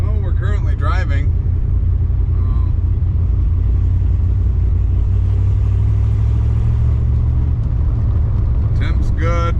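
A 1983 Pontiac Firebird's engine drones steadily from inside the car as it drives, a loud constant low rumble with brief voices at the start and end.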